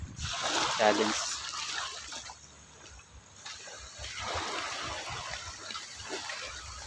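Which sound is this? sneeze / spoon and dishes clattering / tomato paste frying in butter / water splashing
water splashing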